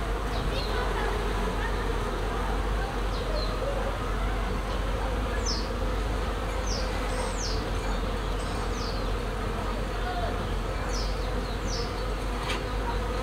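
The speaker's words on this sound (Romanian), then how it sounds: "Foarte, foarte mult albine." Dense swarm of honey bees buzzes steadily around an opened hive frame of capped brood, a continuous close drone with occasional louder passes of individual bees near the listener.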